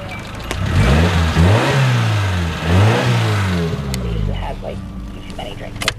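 A Hyundai car engine turns over and catches, then revs up and down a few times before settling, heard close by.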